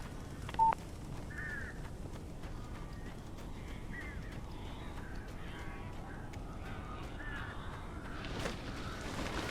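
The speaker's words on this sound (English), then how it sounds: "These birds are weird." Crows caw in several scattered calls at moderate distance over a steady low ambient rumble in Alan Wake Remastered, with a brief electronic tone near the start and no talking.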